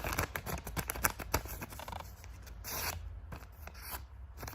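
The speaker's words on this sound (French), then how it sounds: "vous allez prendre le papier et vous allez le plier en 3 fois" Crisp paper rustling and creasing close by, a series of sharp crinkles and rubs followed by a quieter stretch of handling.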